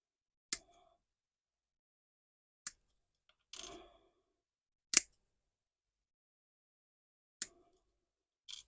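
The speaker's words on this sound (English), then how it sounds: "I'm just going to get these cut off the sprue as well." Plastic parts from a Mighty Morphin Power Rangers Megazord model kit being snipped off the sprue, heard as a handful of isolated sharp clicks spaced seconds apart in near silence.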